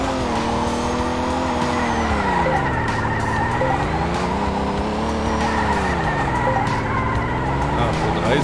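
Car drifting and skidding in a racing video game, the engine note rising and falling in long sweeping waves while tyres squeal steadily throughout, loud and continuous with no pause.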